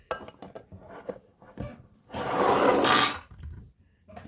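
A metal spoon scrapes and clinks against a dish in a home kitchen, a noisy rattle of about a second set between stretches of nearby talking.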